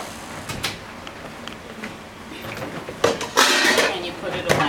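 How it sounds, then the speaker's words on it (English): A drawer slides open and items are put away with clattering and clinking, a few sharp knocks and scrapes in an indoor nursing class setting, with a voice talking quietly. "You open up your drawer."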